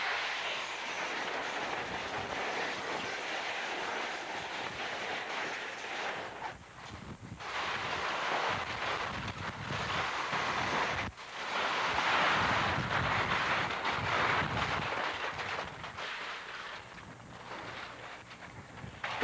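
Hurricane Iwa's gusts roar across Honolulu Airport as a broad, rushing wind noise that swells and dips over about twenty seconds, buffeting the microphone with no speech.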